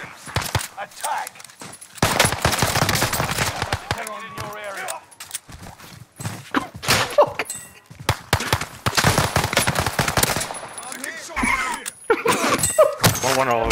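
Video game gunfire, dense bursts of rapid automatic shots in loud clusters separated by brief gaps, close and punchy, with a player's voice talking at times between them.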